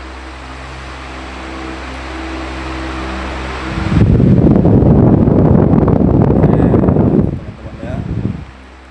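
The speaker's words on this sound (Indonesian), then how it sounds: "Dan ini speed 3. Sudah semakin kencang, teman-teman bisa mendengar suara anginnya." A Krisbow electric fan hums steadily, then surges at speed 3 into a loud, rushing whoosh of air for a few seconds before easing off.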